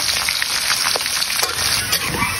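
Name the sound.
garlic frying in oil until brown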